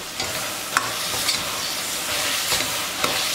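Vegetables for a vegetable biryani sautéing in a pan, with a steady broadband sizzle and a few sharp scraping stirs of a spatula along the way.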